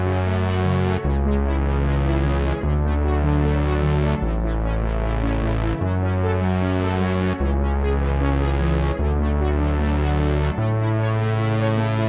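Arpeggiated analog synth layered with bass over a chopped vocal sample in a hip-hop beat, pulsing repeated notes over deep sustained bass tones, cycling in steady sections.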